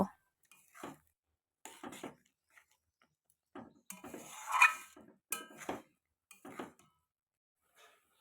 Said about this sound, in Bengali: এবার আমি ভালো করে নেড়ে চেড়ে রান্নাটা করে নেব